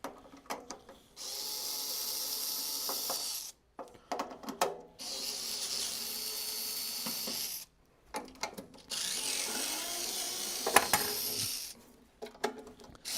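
Screws come out of the front panel of a Skywalker V1 coffee roaster under a small power driver, whirring in several bursts of a few seconds each, separated by clicks and light metallic handling sounds.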